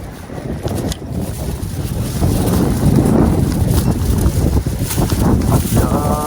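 Wind rushes loudly over the microphone of someone riding a bicycle outdoors, a steady low roar that swells and buffets throughout with faint traffic-like tones in the background.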